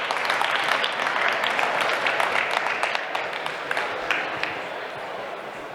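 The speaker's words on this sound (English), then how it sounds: "Please give a round of applause to that" A conference audience at The Class Conference 2024's Pyramid Stage gives a panel a sustained round of applause, dense and fairly loud at first, then easing slightly toward the end.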